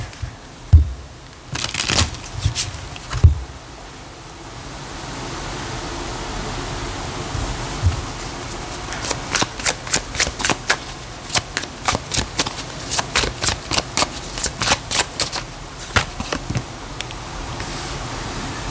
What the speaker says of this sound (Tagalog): Balasahin natin.